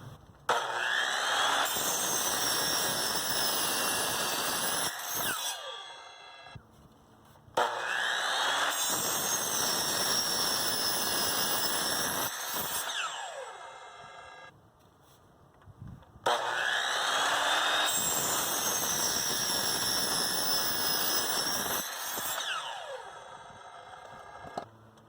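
A power saw cuts wood pieces for a DIY tablet stand in three long, loud passes of about five seconds each. Each pass has a steady whining buzz, and short quiet pauses separate them.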